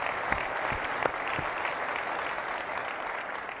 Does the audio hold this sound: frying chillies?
no